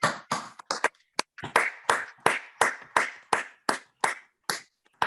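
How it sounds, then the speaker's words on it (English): Slow, steady hand clapping with about a dozen separate claps in even rhythm, close and fairly quiet, probably one or two people rather than a crowd, honoring hall of fame inductees at a virtual medallion celebration. "let's give you all a round of applause"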